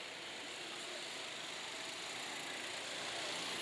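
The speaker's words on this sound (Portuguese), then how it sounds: "Acelerou, botou potência no motor" A racing kart engine accelerates during a fan kart championship heat, making a steady, dense buzzing drone that grows slightly louder toward the end.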